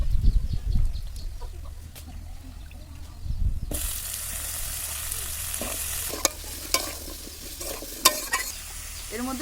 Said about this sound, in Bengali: এবার এর মধ্যে সবজিগুলো দিয়ে দেবো।